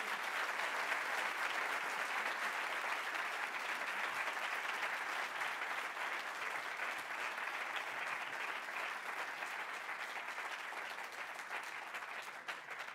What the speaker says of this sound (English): Could we get one round of applause for the first speaker today?